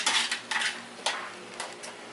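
Chopped cilantro stirred into vegan lettuce wrap filling in a pan, a few clear utensil scrapes and clinks against the cookware at a steady pace, close and moderately loud with no talking.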